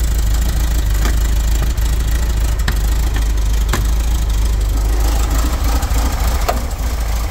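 A 1964 Volkswagen Microbus split-screen van engine idles steadily and loudly up close, a continuous low rumble with a faint rhythmic patter and no talking.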